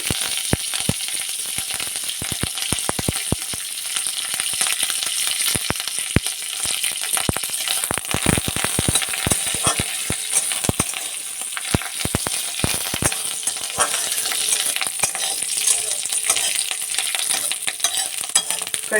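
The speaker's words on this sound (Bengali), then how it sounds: "কারি পাতাটা ভাজা হয়ে গেল," Torn curry leaves frying in oil, a continuous close crackling sizzle with sharp pops and occasional stirring, no voices.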